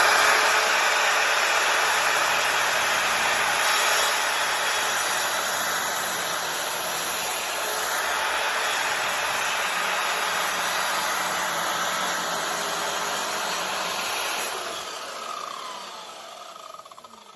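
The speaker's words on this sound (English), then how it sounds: "we have used a miter saw and we've cut both edges" A miter saw cuts through the wood of an old school desk, a loud, steady motor whine held for about fourteen seconds before spinning down, close up and without talk.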